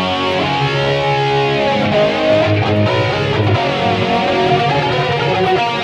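A heavily distorted electric guitar plays an 80s heavy metal riff through a Boss eBand JS-10, dry and upfront with no lingering echo, continuous for several seconds.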